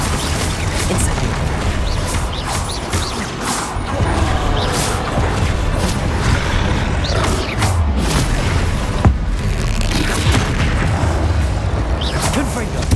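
In the Hogwarts Legacy video game, repeated Incendio fire spells are cast amid a dense, loud barrage of whooshing bursts, booms and crashing impacts, with game voices calling out over the combat.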